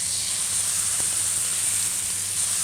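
A steak sears in grapeseed oil in a pan, giving a steady, even hiss of moderate loudness with no pauses and no other sounds.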